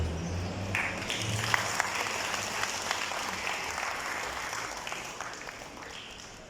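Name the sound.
audience applauding prize winners at ceremony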